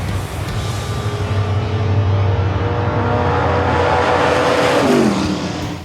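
Drag racing cars roar at the AMCC Father's Day Drags in New Zealand, a loud sustained engine blast with revving that climbs in pitch near the end, continuous and close with no talking.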